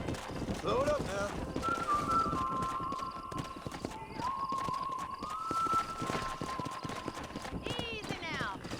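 Horse hooves clip-clop in a steady galloping rhythm in Red Dead Redemption, joined by a whinny and a long whistle, with speech-like voices in the mix.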